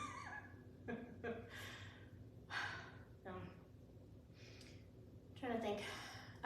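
Heavy, ragged breaths and gasps from a person who is out of breath during a glute workout on a step, close and fairly quiet, with short pauses between breaths.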